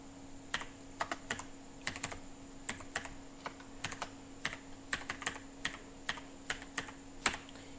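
Someone types an email address on a computer keyboard: about fifteen crisp, close keystrokes in an uneven rhythm, over a faint steady hum with no voices.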